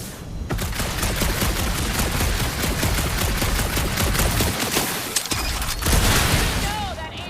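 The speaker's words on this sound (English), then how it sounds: "No, that aimless shooting isn't gonna scare the monsters away, right?" Sustained gunfire from Marvel's Guardians of the Galaxy, a dense, continuous rattle of rapid shots that runs almost unbroken for several seconds, loud and close, with brief dips and a few sharper blasts near the end.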